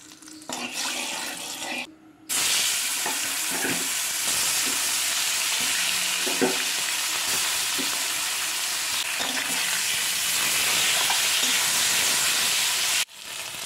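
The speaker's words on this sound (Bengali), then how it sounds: "কড়াই তেল দিয়ে মাছগুলো ভেজে নেব" Fish sizzle in hot oil in a kadai (wok) for a home-cooked fish curry, a loud continuous crackling fry with brief pauses at the start and end and occasional clinks of stirring, no talking.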